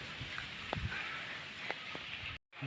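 Steady rain falls in an Odia-speaking setting, a dense, even hiss with scattered sharper drop taps, moderately loud and continuous, with no voices, ending in a brief cut to silence.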